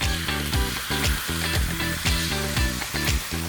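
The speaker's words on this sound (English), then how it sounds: "And now I'm going to add my stir fry sauce." Beef and baby bok choy hiss loudly in a hot wok as stir-fry sauce hits the pan, with a steady, close sizzle and rhythmic tossing underneath.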